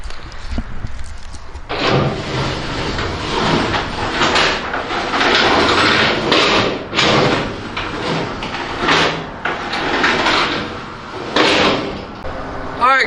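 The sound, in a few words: inverted rack and pinion floor doors operating on a feed truck body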